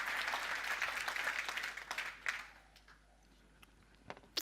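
An audience at a Domino V10 software demo applauds steadily, the clapping thinning out and fading after about two seconds, leaving a few scattered late claps in a quieter hall.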